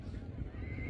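Racehorse at a Pakistani horse race giving a short, loud neigh, a brief burst of whinnying close by with no talk over it.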